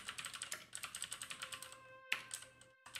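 Rapid computer keyboard typing during a game development session, with dense irregular key clicks running steadily for about three seconds, close and moderately loud, and a brief pause near the end.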